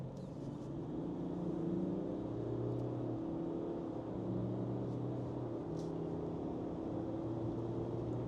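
Steady engine drone from a Land Rover Defender and a Ford Ranger with a sluggish 3-litre V6 in a commercial-vehicle drag race, a continuous loud rumble with layered tonal hums held throughout, no voices.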